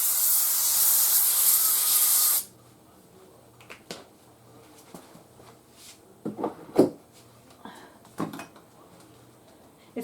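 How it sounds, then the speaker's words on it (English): A loud, steady aerosol spray hisses for about two seconds, followed by quiet clinks and clatter of kitchen items. "I want to spray this with cooking oil so it doesn't stick so much."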